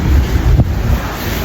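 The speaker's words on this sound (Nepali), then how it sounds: "मौसम दामी चाहिँ चिसो हावा टर्र आइरहेछ" A cold wind gusts outdoors in rainy Dubai and buffets the microphone with loud, low, rumbling roars. A brief stronger blast comes in the middle, with no talking.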